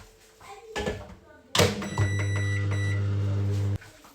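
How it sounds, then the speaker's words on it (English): A microwave oven heating potato purée fufu gives a door thunk and beeps, then a loud, steady humming drone for about two seconds before it stops, with a voice faint in the background. "I'm going to microwave this for 3 minutes"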